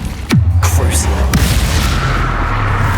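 A Crucio spell is cast in the Hogwarts Legacy video game, sounding like a sudden booming burst followed by a descending magical whoosh and a low rumbling tail over a busy combat background.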